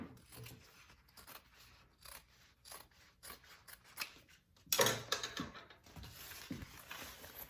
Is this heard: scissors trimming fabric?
yes